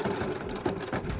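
A sewing machine stitches slowly through a lingerie clasp, a quiet rapid mechanical patter of the needle heard up close for about a second, with no one speaking.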